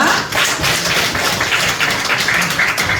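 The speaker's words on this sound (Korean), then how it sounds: "우리 박수로 청해 듣겠습니다" A church gathering audience breaks into dense, continuous applause, many hands clapping together at a steady level for a few seconds.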